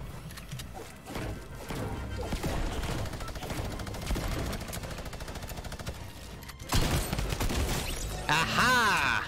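Rapid drum gun fire from Fortnite Battle Royale rattles in dense, continuous bursts with a loud clattering edge, and a sharper crash follows near the end.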